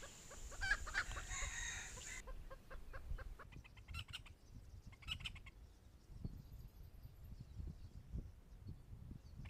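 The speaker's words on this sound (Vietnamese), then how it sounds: "Lúc nó thấy gà trống á, thì nó tục tác, nó có kêu vài tiếng trống" Jungle hen giving soft, sparse clucks and a few low calls while out trapping in the Vietnamese countryside, scattered short calls fairly close over steady outdoor background noise, with no talking.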